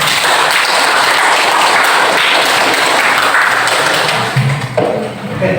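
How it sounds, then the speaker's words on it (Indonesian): Classroom applause after a teacher's call to clap for everyone, a steady dense wash of hands clapping near and loud, easing off toward the end. "tepuk tangan untuk kita semua"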